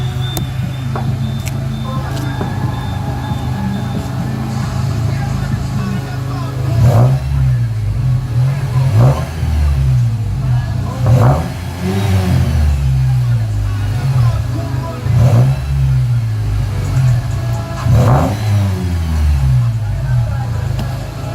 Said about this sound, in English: I'll play the sound real quick of the exhaust so you guys can hear it.